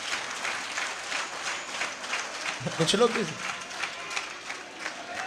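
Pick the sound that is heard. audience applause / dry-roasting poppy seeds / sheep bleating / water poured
audience applause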